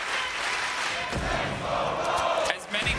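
An esports arena crowd at the Rainbow Six Berlin Major roars and chants as one broad wash of voices, with a few sharp thumps and shouts near the end.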